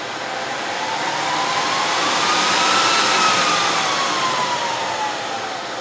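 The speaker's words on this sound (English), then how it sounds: "hopefully all the fans should spin up to their highest setting and you can hear how loud it is" A Dell PowerEdge 2950 server's fans spin at full speed, a loud, steady close-up roar with a faint whine that rises slightly and then falls.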